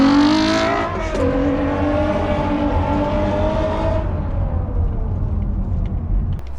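A 2008 Honda Accord with a straight-pipe exhaust and no mufflers, just an ultra-quiet resonator and a MagnaFlow resonator, revs loudly up close. The pitch climbs, drops, then holds a steady roar before easing to a rumbling idle.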